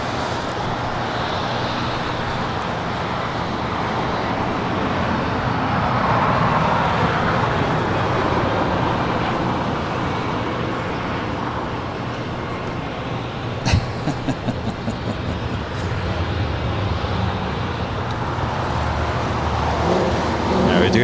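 A United Dreamliner airliner rolls along runway 25 Right on the south side of LAX, giving a continuous broad roar heard from a distance, with a few brief clicks partway through and faint voices under the noise.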